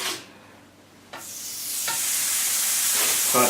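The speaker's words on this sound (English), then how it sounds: "I'm going to go ahead and drop these in. This is a hot" Slider burger patties dropped into a hot dry pan with no oil, bursting into a loud, building hiss and sizzle that keeps rising as each one lands.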